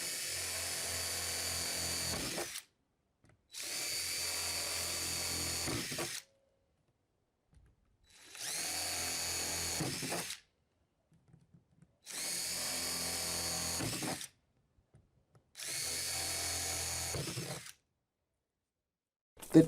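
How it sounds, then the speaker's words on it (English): A power drill spinning in reverse bores drainage holes in five separate bursts of about two seconds each, with a whining motor and grinding bite and short silent pauses between them. "I made sure to put in plenty of drainage holes, running the drill backwards to avoid splitting."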